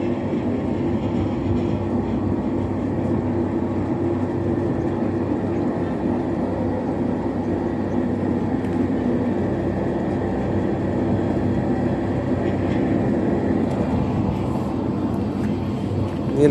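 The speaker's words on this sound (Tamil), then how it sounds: "அந்த மிஷின் சவுண்டு எப்பொழுதுமே ஓடிக்கிட்டே இருக்கும்" Machinery at an ONGC oil and gas plant in Thiruvarur runs continuously, producing a steady, dense mechanical drone with a low rumble that stays level throughout, with no pauses.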